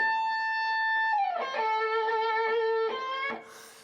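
An electric guitar through an amp, captured by a room microphone: the same distorted phrase is heard more distantly and more quietly, a held note bending down into a pulsing sustained tone that then stops.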